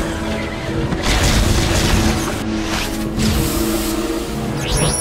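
Cold gun blasts in DC Universe Online land as loud booming bursts with crashing impacts, several hits in close succession at near range.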